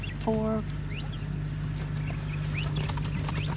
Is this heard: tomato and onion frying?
no